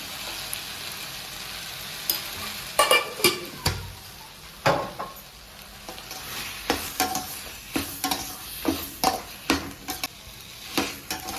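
Homemade chili powder and turmeric sauté in a pan for an ivy gourd curry: a steady sizzle broken by irregular scrapes and clacks of a spatula stirring, close and fairly loud, with no talking.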